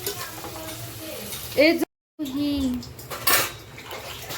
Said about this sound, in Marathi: आता हे बरिस्ता बनवायचा आहे सो तेलात टाकलाय कांदा